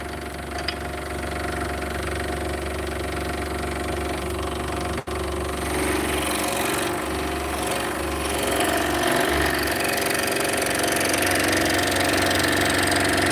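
A scroll saw cuts steadily through wood, a continuous close mechanical buzz with a low motor hum that grows slightly rougher and busier partway through, with no talking.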